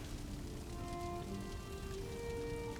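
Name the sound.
rain in the video game Valheim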